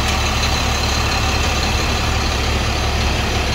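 A loud, steady engine rumble with a heavy low throb fills the whole stretch, close and continuous, as an old car drives away.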